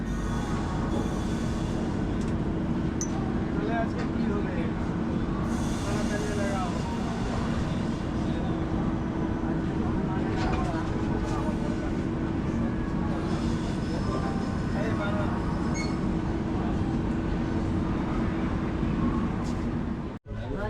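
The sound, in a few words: Shatabdi Express train moving after departure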